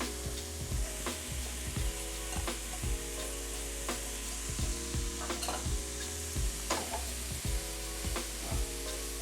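Scallions and mushrooms sizzle in butter in a pan, a steady close frying crackle with repeated sharp clicks and scrapes of stirring throughout.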